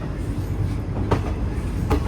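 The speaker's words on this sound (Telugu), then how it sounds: "మన ట్రైన్ అయితే పుదుచ్చేరి నుంచి స్టార్ట్ అయిపోయింది." The Kacheguda Express (17654) rolls out of Puducherry on single-line track, a constant low rumble from inside the coach with two faint rail clacks.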